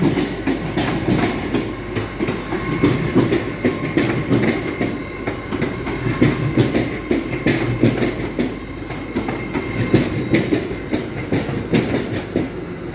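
A passenger train running in electric mode rolls steadily past at close range, a continuous rumble with rhythmic clicking of wheels over rail joints throughout.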